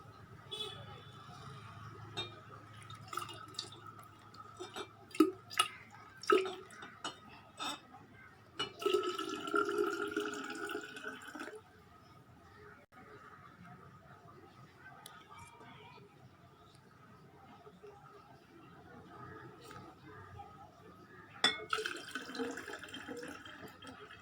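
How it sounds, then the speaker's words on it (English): Water pours from glasses and splashes in short bursts during a children's pouring activity, pausing between pours, quiet and close, with occasional drips and a voice speaking in between. "Now we are going to pour the water from the glasses one by one."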